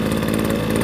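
A Kisan Kraft KK-P768 portable power sprayer's small engine runs at minimum throttle with a steady, loud, close idling drone and a rapid low pulsing throughout the brief moment.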